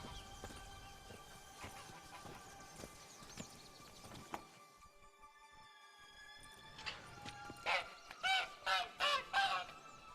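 A goose honks in the video game The Witcher 3, letting out a quick run of loud, nasal honks near the end after a quieter stretch of faint background ambience.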